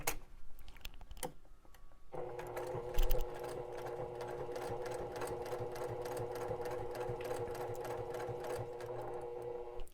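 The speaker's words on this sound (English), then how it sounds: "I'm going to sew all the way up to my corner here" A sewing machine stitches a black fabric water bottle holder, its motor running in a fast, steady mechanical chatter after a few short starts, close and continuous.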